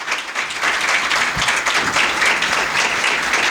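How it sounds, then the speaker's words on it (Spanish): An audience at a literary talk about Borges applauds with sustained, dense clapping that fills the room at an even, loud level throughout. "con Silvia Iparraguirre, a quien le damos un gran aplauso."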